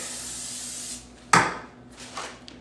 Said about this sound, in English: Spray it with nonstick.